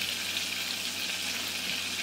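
About 40 g of butter melts in a pan for a béchamel, giving off a soft, even sizzle and fine crackle, quiet and steady with no talk.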